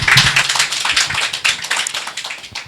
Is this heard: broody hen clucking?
no